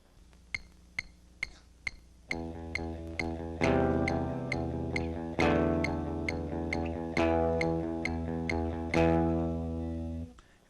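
A metronome clicks alone at 132 bpm, then rock guitar joins with repeated strummed chords in time, close and loud, the steady ticks continuing over the playing.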